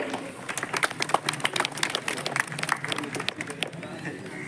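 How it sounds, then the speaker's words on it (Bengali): An audience claps for high-achieving students at a 2024 HS result publication event, a dense run of close hand claps with voices and crowd murmur mixed in. "একবার জোরে হাততালি তাদের জন্য"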